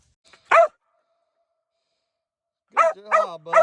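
A cur coonhound barks while out coon hunting, first with one sharp bark and then, after a silent pause, with a run of three or four close, loud, bawling barks.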